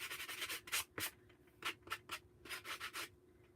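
Wood boards for a rustic farmhouse-style tiered tray are sanded by hand in brisk, close back-and-forth rasping strokes, each a short burst with brief pauses between.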